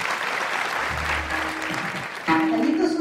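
An audience claps during a Marathi comedy kirtan, a dense burst of applause from a crowd that holds steady before a voice and music cut in near the end.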